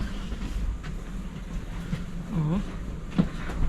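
Inside a passenger train arriving at Katowice as people prepare to step off, a steady low rumble carries faint rattles and a couple of brief squeaks, fairly close and without clear talk.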